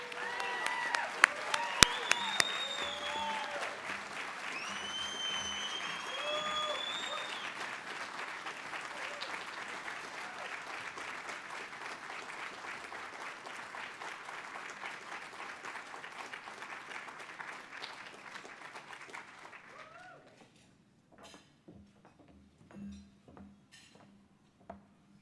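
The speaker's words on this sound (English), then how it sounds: "Please join me and a warm round of applause as we welcome Michael O'Rourke to the stage" A banquet audience at the Texas Bankers Hall of Fame gives warm, sustained applause as Michael O'Rourke comes to the stage, with a few cheers early on, the clapping fading out after about twenty seconds.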